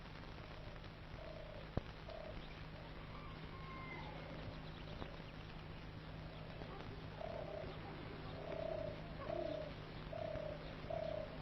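Doves coo softly and repeatedly in an oasis garden of olive and palm trees, the calls rising toward the end over a low constant hum and faint background noise.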